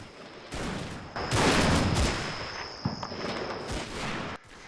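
Gunfire from an Italian unit in the Combat Mission: Fortress Italy wargame, heard as a dense, continuous fusillade of overlapping rifle and machine-gun shots with sharper bursts, loud and fairly close, with no talking.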